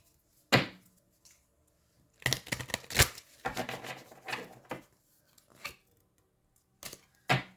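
Tarot cards shuffled in three quick bursts of riffling and rubbing, close and fairly quiet, with short pauses and a few isolated snaps between them.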